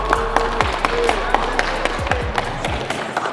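Crowd at a heavyweight kickboxing event applauding the winning fighter after a knockout, steady close clapping with scattered sharp taps and a voice talking over it.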